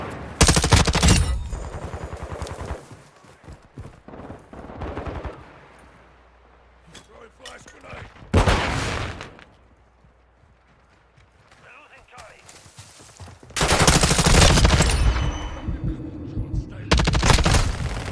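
Rapid Fennec SMG fire in Modern Warfare II erupts in several loud, dense bursts separated by quieter gaps, with someone talking between and over the shooting.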